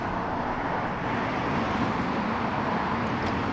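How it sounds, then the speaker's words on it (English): Steady traffic noise from a road beside a lay-by near the Italian lakes, a continuous broadband roar of passing vehicles heard from nearby, even in level throughout with no talk. "I don't mind the traffic noise though."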